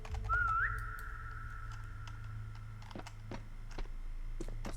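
A single short, rising whistle sounds early on in the SCP 3008 game, followed by scattered clicks and taps over a steady low hum.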